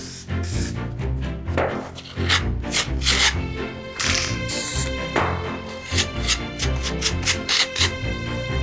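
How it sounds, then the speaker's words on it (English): Continuous rhythmic scraping of rust from a wall down toward the floor in a run-down mansion, with steady repeated rasping strokes close to the microphone and no talking. "So I'll finish scraping it out properly"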